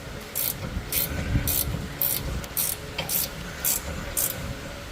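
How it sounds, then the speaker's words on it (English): A hand ratchet tightens bolts on helper air bags for a Ford F100 truck, bursts of rapid clicking in an even rhythm over low garage background noise, with no voices. "I'm gonna go ahead and tighten these two up"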